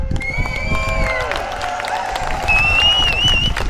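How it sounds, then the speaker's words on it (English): Spectators cheer and applaud at a jousting tournament, a broad steady wash of crowd noise with scattered shouts and whistles running under a sustained tonal drone, moderately loud and continuous throughout. "Give them both a cheer of encouragement."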